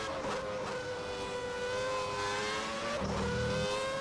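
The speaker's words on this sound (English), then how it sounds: "Right on the rev limiter." A race car engine in a racing video game holds steady, near and loud against the rev limiter, a buzzing high-revving drone with layered harmonics that stays pinned for the full stretch and thickens slightly near the end.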